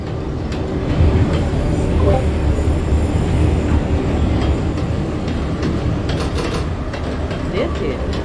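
An NYC Subway R142A train in the OpenBVE simulator runs steadily, a loud continuous rumble of wheels and motors with faint rhythmic clatter throughout, without pauses.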